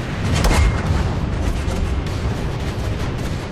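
Massed artillery fire from a huge Soviet offensive against German lines in June 1944, a dense continuous rumbling barrage with one heavy boom standing out near the start, loud and sustained throughout.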